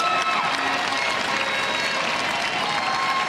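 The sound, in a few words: crowd applauding at a Paralympic boccia bronze medal match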